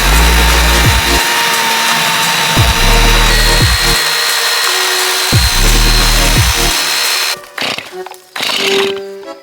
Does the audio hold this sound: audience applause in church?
no